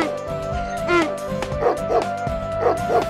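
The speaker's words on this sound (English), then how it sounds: "The donkey brayed, the dog barked" Cartoon-style dog barks from a children's folk tale, several short yips and bow-wows in an uneven rhythm over a music bed, close and moderately loud.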